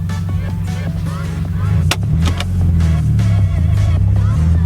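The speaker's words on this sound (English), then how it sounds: "put the car in first gear, And right as, I don't know how much of this I'll be able to show you guys all at once." A manual car pulls away in first gear on a hill start, its engine droning low and steady close by while the revs gradually climb, with a few sharp clicks mixed in.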